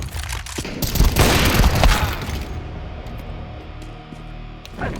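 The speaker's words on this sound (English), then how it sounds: "Throwing flashbang." A flashbang grenade bursts in a tactical shooter game, a loud crackling blast with scattered booms and shatter that rolls on for a couple of seconds, then fades to a low ringing hum with a brief clatter near the end.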